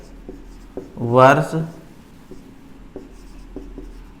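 Chalk or a marker writes numbers on a board during a math lesson, with sparse tapping and scratching strokes under a man's spoken explanation.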